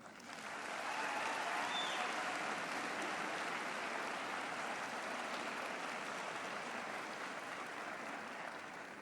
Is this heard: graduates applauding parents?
yes